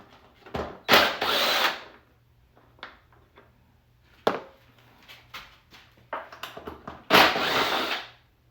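A power tool fitted with an 8mm socket removes the seat bolts on a CRF110 dirt bike, giving two loud whirring bursts a few seconds apart with lighter clicks and handling sounds between.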